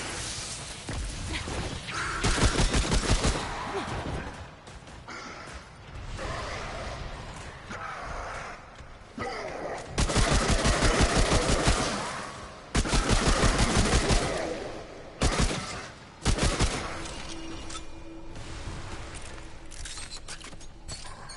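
Rapid automatic gunfire from a weapon in Remnant: From the Ashes comes in several loud sustained bursts separated by quieter gaps with mechanical clatter.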